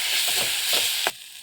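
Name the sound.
tomato sauce with chicken masala simmering in a pan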